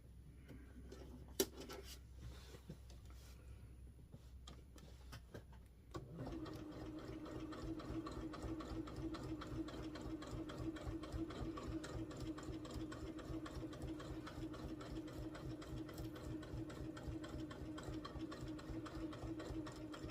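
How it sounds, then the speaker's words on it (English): A sewing machine runs steadily for about fourteen seconds while stitching a pumpkin-themed table runner with bobbin thread. It starts after a quiet stretch of light handling noises and keeps up a fast, even, rhythmic whir close to the microphone. "I'm going to see if I can pull up my bobbin thread here."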